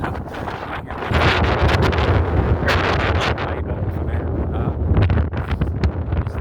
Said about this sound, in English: It really is very windy.